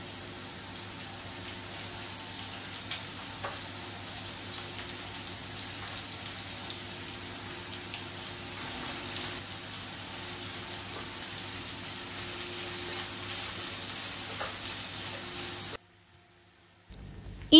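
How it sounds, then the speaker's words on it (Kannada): Three cut onions fry in a pan for chicken biryani, giving a steady, even sizzle that runs on with no talking, then cuts off abruptly near the end. "ಅದಕ್ಕೆ ಫಸ್ಟ್ ಈಗ ನಾನು ಈರುಳ್ಳಿ ಫ್ರೈ ಮಾಡ್ತೀನಿ."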